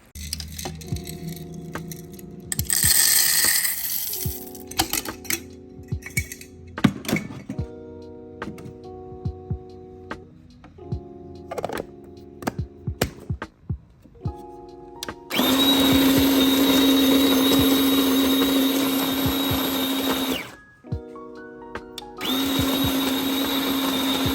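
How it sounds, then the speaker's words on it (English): A home coffee grinder grinds beans in two sustained, loud bursts of steady whirring, with clinking and handling sounds of a morning coffee routine in between. "I'm just making my coffee this morning and I really love that grinder that I got"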